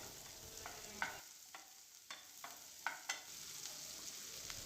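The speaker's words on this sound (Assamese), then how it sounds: "পিঁয়াজখিনি বৰ বেছিকৈ ভাজিব নালাগে অকণমান কোমল হোৱালৈকে ভাজিলে হ'ল" Onions fry softly in a pan with a steady low sizzle, broken by a few sharp clicks and scrapes of stirring; fairly quiet and close, with no voices.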